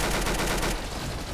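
A shotgun fires in the Roblox Arsenal video game with loud, close blasts that run into each other for most of the moment, then fade into quieter noise.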